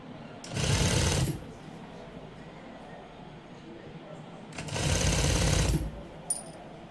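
Two bursts of sewing machine stitching on a blouse sleeve, each running about a second, with a quiet pause between them, steady and close.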